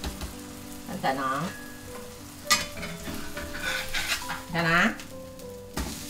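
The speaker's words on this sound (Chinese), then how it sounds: "要煎到它金黃" Minced meat and cabbage patties sizzle in a pan over moderate heat, a soft steady fry with occasional scrapes and stirring clinks while someone talks over it.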